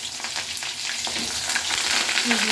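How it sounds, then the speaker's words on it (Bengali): Eggplant pieces dropped into hot oil with black cumin, a dense loud sizzle that builds steadily, with light stirring noises, heard up close with no speech. "পুরো একদম তেলের ওপরেই আমি দিয়ে দিচ্ছি বেগুন"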